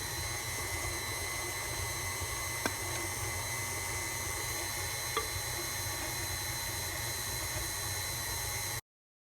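An electric mixer blends sugar cookie dough with a steady, loud, broadband whir that holds evenly throughout, with a couple of faint clicks and no talking.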